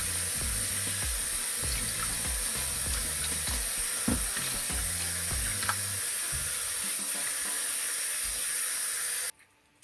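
Cold tap water gushes steadily into a kitchen sink to rinse blackberries, grapes, strawberries and blueberries with baking soda, a loud continuous splashing hiss that cuts off abruptly at the end.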